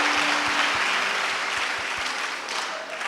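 A church congregation applauds during a sermon, sustained dense clapping that carries on for several seconds before gradually thinning and softening.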